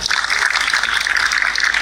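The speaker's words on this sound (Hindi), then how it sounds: "ताली बजाएं इनके लिए" An audience at a school gathering for Grade XI students breaks into brisk applause, a dense, steady patter of many hands clapping together at moderate loudness.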